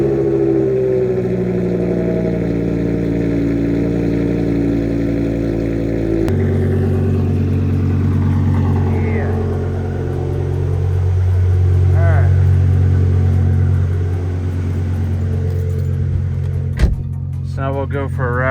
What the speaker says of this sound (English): Cold starts and exhaust notes.